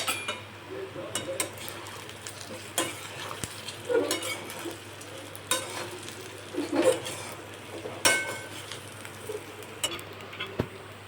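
Leftover dal and rice batter for muthiya is mixed with spices in a bowl, soft irregular squishing and scattered light knocks, faint and close.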